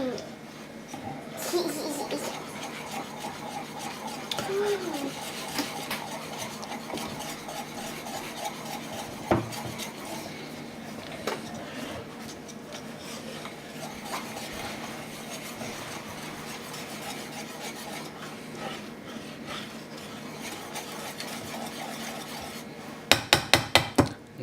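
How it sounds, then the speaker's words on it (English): A whisk scraping and rubbing steadily through chocolate ice cream mixture in a bowl, continuous close scratching with occasional clinks and a few sharp knocks near the end, under someone talking. "You see slowly but surely the little clumps are getting out of there. And we're mixing everything together."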